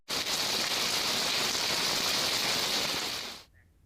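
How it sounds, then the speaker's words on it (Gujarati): Heavy rain pours steadily onto a road with water running across it, a dense, loud hiss that holds without a break and then stops abruptly near the end. "ધોધમાર વરસાદ વરસતા રોડ પર પાણી વહેતા થયા"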